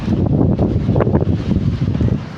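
Strong storm wind gusting hard outdoors, a dense continuous roar with buffeting surges, loud and close, with no talk over it.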